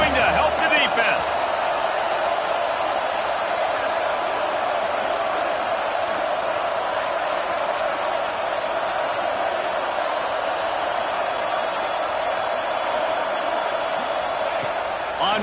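A stadium crowd in College Football 26 at a Nebraska vs UCLA game roars in a steady, loud, unbroken swell that lasts the whole stretch, with a voice speaking over it.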